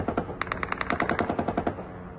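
Gunfire is aimed at an attacking drone. Rapid automatic bursts crack out in a fast, regular rhythm of about a dozen shots, loud and unbroken by speech.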